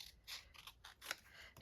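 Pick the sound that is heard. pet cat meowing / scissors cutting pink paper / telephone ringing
scissors cutting pink paper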